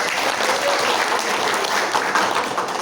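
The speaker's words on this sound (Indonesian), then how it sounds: "Tepuk tangan." Steady, dense applause fills a plenary session hall after a chair is confirmed by acclamation, a continuous loud wash of many hands clapping with no pauses throughout.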